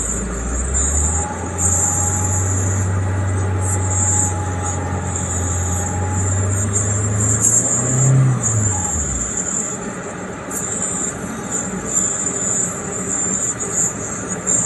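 A Daihatsu Taruna engine is revved with the air conditioning on, in a car with a long-standing rough noise and a cooling fault. It gives a steady low drone that climbs slightly, holds for several seconds, then drops away, with a faint high whine throughout.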